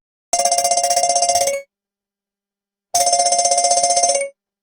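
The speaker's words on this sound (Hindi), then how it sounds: "मोबाइल बज उठा" A mobile phone rings in two loud electronic bursts, each about a second and a half long with a fast pulsing trill, separated by a silent gap, at closing time in a village shop.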